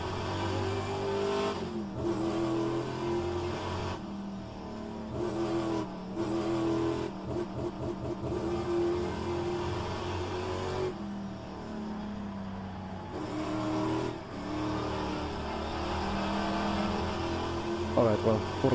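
Race car engine in a racing video game, a loud buzzing engine tone rising and falling with throttle changes and gear shifts, continuous and close, with someone talking over it.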